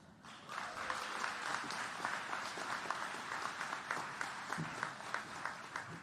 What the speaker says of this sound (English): We're going to do one more round of applause